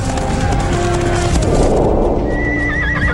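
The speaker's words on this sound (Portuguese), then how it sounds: "A cavalaria havia chegado." Cavalry horses charging into battle for the first time around 600 BC: loud, dense galloping hoofbeats and whinnies close up, with a rising rumble of many hooves and a shrill neigh toward the end.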